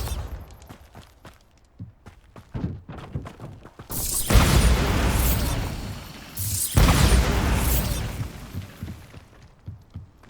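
Two big Bombarda spell blasts from the video game Hogwarts Legacy, each a loud broadband explosion with a lingering rumble, coming after a stretch of quieter clicks and small in-game sounds.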